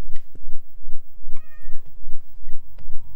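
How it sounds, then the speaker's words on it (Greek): A cat meows in the game The Medium, one clear drawn-out meow standing alone over a low, pulsing ambient background with a few soft clicks around it. "Να η γάτα."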